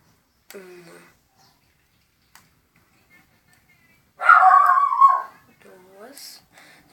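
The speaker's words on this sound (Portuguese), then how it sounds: "Se vocês escutarem um cachorro latindo, gente, é o meu cachorro" A dog lets out a loud, strained burst of barking and whining close by, preceded and followed by brief bits of quiet human voice.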